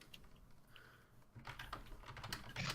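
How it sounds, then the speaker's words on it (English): Rapid typing on a computer keyboard, with quick, dense clusters of key clicks at close range that grow busier and louder partway through, over a quiet room background. "Typing with cold hands is really difficult."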